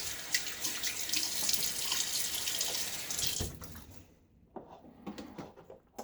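Water runs steadily from a tap into a sink during a wet shave, a loud continuous splash that cuts off after about three seconds, followed by quieter dripping and small handling noises.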